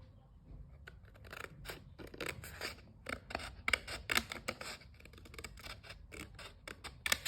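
Scissors snip through paper for a Valentine heart box, a quick run of crisp close cuts in an irregular rhythm, heard alone and fairly quiet.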